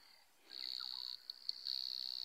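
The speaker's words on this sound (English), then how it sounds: "That's a dwarf puddle frog." Dwarf puddle frog calling at sunrise on an African safari: a steady, high, shrill insect-like trill that starts after a brief pause, breaks off once, and then resumes. It sounds fairly close against a quiet background.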